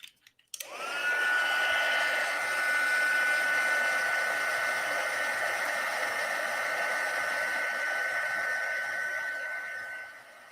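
A heat tool heat-sets embossing powder on a card, giving a steady, close, hair-dryer-like whoosh that starts abruptly, holds evenly for about ten seconds, then cuts off, with no talking.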